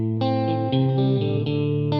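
Electric guitar through a NUX Solid Studio MKII solid state amp, a short loud phrase of ringing chords with chorus-like shimmer and mild grit, several attacks in two seconds.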